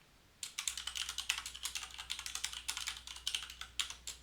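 Rapid clicking of a computer keyboard as a password is typed, a steady run of close, crisp keystrokes lasting about four seconds with no voices.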